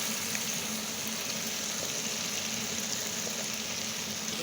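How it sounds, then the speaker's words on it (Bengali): Spice paste for goose meat curry fries in oil in a pan, giving a constant, even sizzle and hiss close up, with no voices. "অল্প অল্প করে জল দিয়ে মশলাটাকে ভালোভাবে কষিয়ে নিতে হবে"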